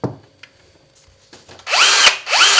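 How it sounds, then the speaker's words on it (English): A Bosch AdvancedDrill 18 cordless drill whirs up loudly near the end after quieter handling noises, its motor pitch rising and falling in two short bursts with no talk. "that's the Bosch Advanced Drill 18"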